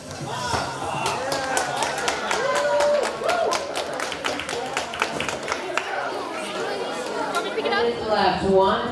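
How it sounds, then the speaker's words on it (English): A school robotics competition crowd cheering for their team, a dense, steady wash of chatter, shouts and scattered claps from a packed indoor room, with voices mixed throughout. "cheering for their team."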